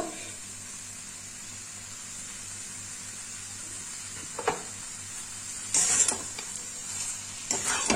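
Banana-flower rice pulao cooking in ghee, heard as a soft background sizzle with a few scraping, clinking stirs near the end, close and fairly quiet.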